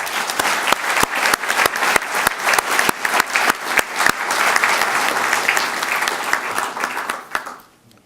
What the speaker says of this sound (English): give a loud round of applause for the